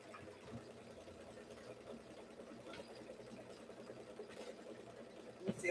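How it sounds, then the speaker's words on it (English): An embroidery machine stitching out a template, heard as a faint, steady mechanical whirr with light rhythmic ticking of the needle, low in level against quiet room tone. "Now it's going to go ahead and start trimming or stitching out the template."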